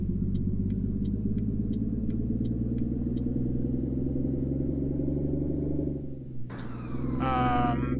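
A heavy truck in Euro Truck Simulator 2 drones with a steady low engine rumble as it drives slowly, then the sound shifts sharply near the end as other game noises cut in.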